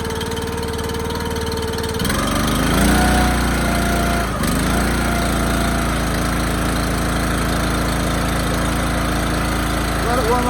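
Small engine on an EastonMade Ultra log splitter in cold weather catches at about two seconds and settles into a steady, loud, close running drone with a slight vibration.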